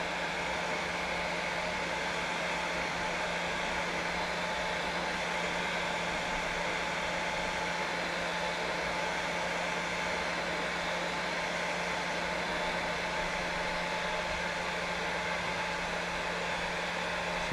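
A heat gun blows a steady, close, continuous hiss with a low hum underneath for the whole stretch while heat-shrink tubing is shrunk during rigging of blue marlin fishing lures.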